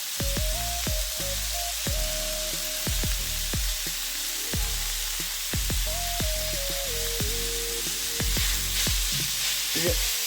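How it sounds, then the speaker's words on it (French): Minced meat sizzles steadily in a hot pan, with a constant loud crackle and occasional stirring knocks, while a quiet melodic tone plays underneath. "faire cuire notre viande hachée"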